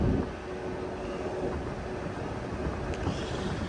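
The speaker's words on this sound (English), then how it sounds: "might be able to hear the wind" Wind blowing outdoors at a welding site, a steady, blustery broadband rumble buffeting the microphone throughout, with no talking.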